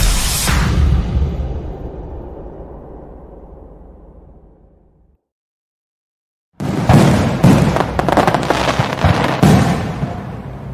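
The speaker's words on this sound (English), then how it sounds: "we need a longer fireworks, I think, for days like this" A fireworks burst fades away into a long decaying rumble, then after a short silence a fresh volley of crackling, popping fireworks starts up, loud and dense, with no voices.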